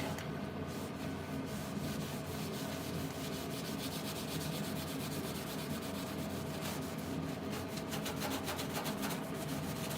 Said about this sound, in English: give it a little rub over, you can just see how that lovely factory white paint just comes back